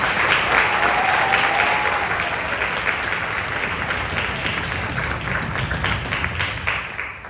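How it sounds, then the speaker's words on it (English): An audience applauds a conductor after a student orchestra's concert, a dense, steady wash of clapping that stays loud throughout and tapers only slightly toward the end. "And I would like to give him a big round of applause."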